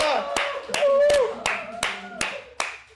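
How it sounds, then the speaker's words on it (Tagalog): A group claps in steady unison, seven sharp claps evenly spaced over a few seconds, with voices ringing out between them. "Palakpak ta."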